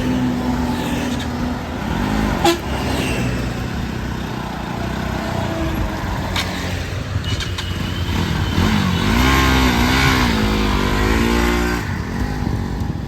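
A motorcycle with worn-out brake pads is ridden near a college, its engine droning close and loud with revs rising and falling over a steady run.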